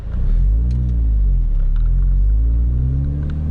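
A car rolling along toward a marina, heard from inside as a loud steady low engine rumble with mild rising and falling pitch, continuous for the whole span.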